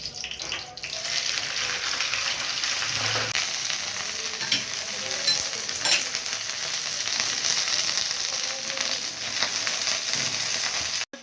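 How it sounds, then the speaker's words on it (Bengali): Okra sizzles loudly in oil with black cumin in a wok, a continuous dense frying hiss with occasional stirring scrapes, steady throughout with no talking. "আমি কড়াই বসিয়ে দিয়েছি, তেল দিয়েছি, কালো জিরে দিচ্ছি। আমি ঢ্যাঁড়সের ঝাল বানাবো। ঢ্যাঁড়সটা দিয়ে দিচ্ছি।"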